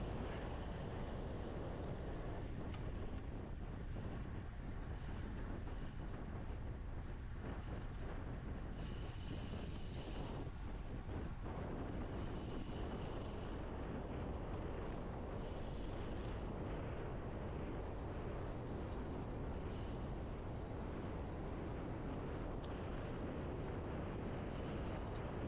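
Steady, loud wind buffeting the microphone throughout a bicycle criterium race while riding into a headwind in a small pack of six riders, a continuous roaring rush with no speech.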